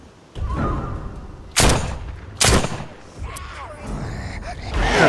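Gunshots ring out in The Walking Dead: Saints & Sinners played in VR, two loud close bangs about a second apart over ongoing game noise and rumble, with fainter thuds after.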